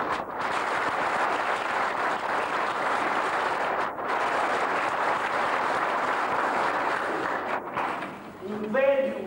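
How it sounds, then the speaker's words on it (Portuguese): Theatre audience applauding at an amateur play on Pico Island, steady dense clapping that fills the whole stretch with two brief dips, then a voice begins speaking near the end. "palmas para ela"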